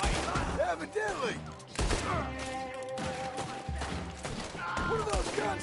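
Gunfire in Red Dead Redemption 2, a rapid fusillade of shots and heavy thumps layered under loud music and game effects, with voices talking through the din.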